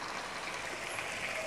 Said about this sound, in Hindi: पाँच मिनट गोश्त को भून लेने के बाद हल्का सा ये फ्राई भी हो गया है